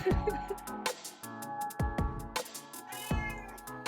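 A house cat meows and caterwauls in a series of loud, drawn-out, wavering cries, about eight of them in quick succession with short pauses between, heard close and alone without talk.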